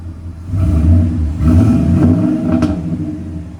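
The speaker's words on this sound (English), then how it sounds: "you still get to hear that beautiful Flowmaster sound" A 2015 Ford F-250 pickup with a 6.2L V8 and a Flowmaster 50 Series exhaust revs, its deep, loud rumble swelling and easing in a few surges close by.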